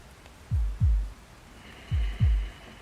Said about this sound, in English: can hear a heartbeat.